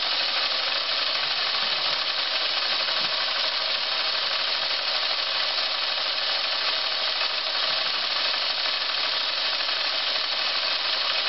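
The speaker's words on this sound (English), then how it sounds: "I've never worked this steam engine that hard." A small steam engine runs hard at around 18 psi, giving off a steady, dense mechanical hiss and clatter that continues unbroken for over ten seconds without any voices.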